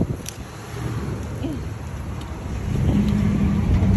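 A car rolls through a crosswalk in a Home Depot parking lot, a steady engine rumble with wind noise that grows louder toward the end as it passes close by.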